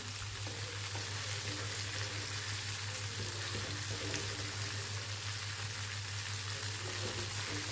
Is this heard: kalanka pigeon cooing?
no